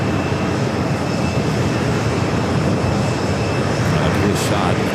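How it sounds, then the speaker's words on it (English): Lufthansa Airbus A380 jet on approach into JFK from Munich, a loud continuous engine roar and whine filling the scene, with speech heard over it. "The Lufthansa A380 Super coming up from Munich."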